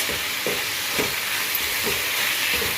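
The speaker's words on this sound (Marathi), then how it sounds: "आता दोन तीन मिनटं ना असंच परतून घेऊ आपण तेलामध्ये मिठामध्ये" Spices sauté in oil with salt, giving a constant frying hiss with rhythmic scraping strokes of a spatula about every half second.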